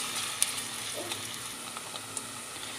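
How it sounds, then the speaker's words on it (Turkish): Steady sizzling of thinly chopped onions frying in hot oil in a pot, with a few faint clicks of stirring. "Soğanları rengi dönene kadar karıştıracağım."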